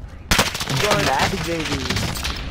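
Rapid automatic gunfire in a Call of Duty-style shooter bursts in suddenly and rattles on loud and close, with a voice talking over the shooting.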